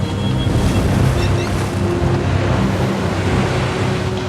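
Heavy ocean surf roars without a break through a storm on the Southern Ocean, mixed with wind buffeting the microphone and a low rumble from the boat, loud and close throughout.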